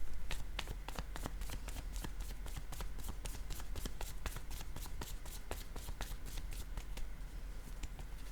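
Playing cards are shuffled steadily for several seconds, a rapid ripple of crisp flicking clicks over a faint low background hum, with no voices.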